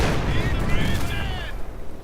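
Gunfire in the World War II strategy game Company of Heroes 2, with Panzer Grenadiers, SVT-40 rifles and a flamethrower in the fight, heard as a dense crackling barrage beneath continuous game commentary.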